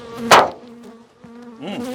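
Honey bees buzz around an open hive in a bee yard, a close insect drone with a sharp loud pass early on and wavering buzzing tones that rise again near the end.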